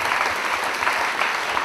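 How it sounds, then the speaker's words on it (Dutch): Steady applause from an audience at a Dutch film festival talk show, a dense even wash of many hands clapping throughout, moderately distant with no voices over it. "Ja, applaus."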